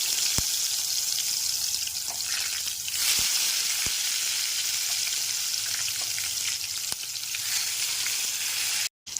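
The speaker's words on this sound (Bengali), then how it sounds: "তেলটা এখানে খুব ভালো মতো গরম হয়ে গেছে এবার লবণ হলুদ ও কাশ্মীরি লঙ্কার গুঁড়ো মাখানো বেগুনগুলো দিয়ে দিই" Brinjal pieces coated with salt, turmeric and Kashmiri chilli powder frying in hot mustard oil, a loud, continuous sizzle up close with a few sharp clicks and one brief dropout near the end.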